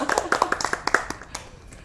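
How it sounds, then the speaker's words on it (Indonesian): Applause from an audience at a Kartini Day podcast session at the Kanwil DJPB Bali office: a short burst of scattered, close hand claps that thins out within about a second, with a voice talking over it. "Tepuk tangan dulu dong untuk kita semua"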